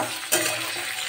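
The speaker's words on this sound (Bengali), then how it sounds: "পটলটা ভাজতে দিয়ে দিয়েছি" Pointed gourd (potol) frying in hot oil seasoned with cumin seeds and dried red chili, a steady close sizzle with a sharp stir or clatter near the start, no voices.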